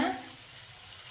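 Tomatoes with ginger garlic paste sautéing in a pan give a brief, soft sizzle that fades quickly after a short initial burst.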